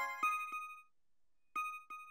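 A synthesized electronica bell and keys tone built from ring-modulated operators rings out in a few short bright metallic strikes with a gap between, each decaying quickly, clean and alone.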